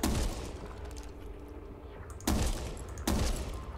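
Gunfire in the Back 4 Blood zombie shooter: a loud opening burst, then two sharp, close gunshots a second apart, each fading into a rumbling echo, with no speech.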